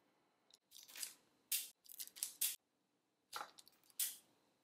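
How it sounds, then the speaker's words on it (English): Wire being snipped with cutters while fixing a ceiling fan, a series of crisp close snips and crunches in quick groups with short pauses between, no talk. "I'm gonna cut some length off."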